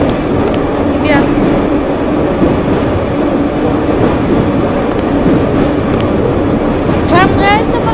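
Subway trains in the video game Subway Simulator 3D rumble past continuously with a steady rolling roar, and faint squeals of metal rise briefly twice along the way.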